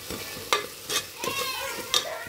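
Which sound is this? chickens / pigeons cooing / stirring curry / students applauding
stirring curry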